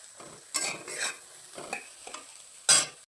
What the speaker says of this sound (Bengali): আরেকবার হালকা নাড়িয়ে দেবো।